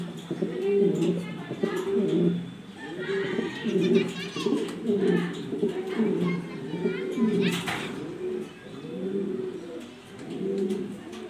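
Black exhibition Danish pigeons, a white-eyed pair, coo in repeated low throaty bursts close by, with children's voices and other chatter going on in the background.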